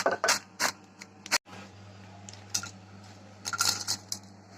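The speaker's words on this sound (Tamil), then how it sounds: "பாருங்க எவ்வளவு கிறிஸ்பியா சவுண்ட் கேக்குது." Crispy seasoned french fries, coated with chili powder and pepper, rattling and clicking in a series of sharp, close, crackly bursts over a steady low background hum.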